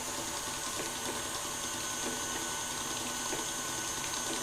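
Water running steadily from a tap for macaron batter, a continuous hissing splash with a faint low hum beneath, fairly close and with no talking.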